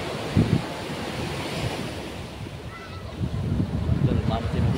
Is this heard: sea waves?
yes